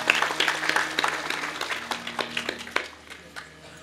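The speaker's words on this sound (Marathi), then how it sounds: "त्यांच्यासाठी एकदा जोरदार टाळ्या वाजवा" Audience at a kirtan clapping for the organisers, a burst of individual claps that starts fairly loud and thins out into scattered claps over a few seconds.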